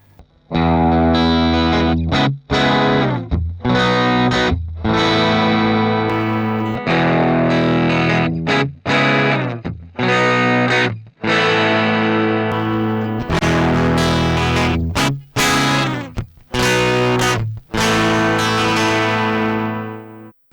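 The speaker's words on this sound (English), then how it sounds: "Let's try the same thing with an overdrive." Electric guitar through an overdrive pedal and a Shift Line Twin MkIIIS preamp strums choppy chords and riffs, gritty and loud, with stops between phrases and a harsher, fizzier tone in later sections.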